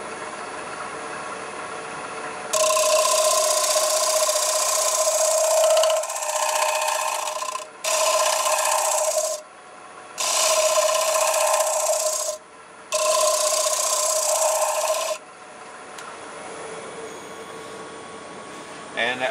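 A turning tool cuts a wooden bowl on a lathe, making a steady raspy scraping in four bursts of roughly two to five seconds each, separated by short pauses, over a constant motor hum.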